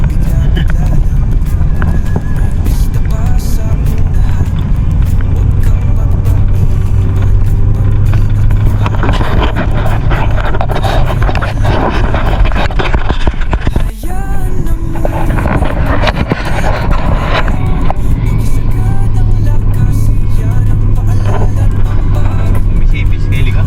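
A motor tricycle engine runs steadily with a rough, continuous drone and wind buffeting the microphone, loud and close, while people talk over it.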